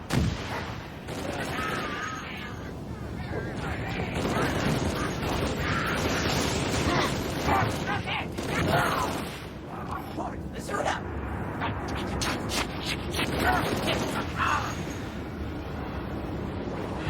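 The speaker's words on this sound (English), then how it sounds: "Heard that wraith shooting again." A Wraith tank's plasma mortar in Halo: Reach thumps repeatedly in the distance amid gunfire and wind, while a person talks over much of the scene.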